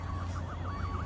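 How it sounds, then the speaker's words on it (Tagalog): Ambulance siren arriving at a truck accident scene, its wailing tone rising and falling steadily over a constant low traffic rumble, heard from a moderate distance with no talk. "May mga ambulansya kung ano-ano dyan na dumarating na."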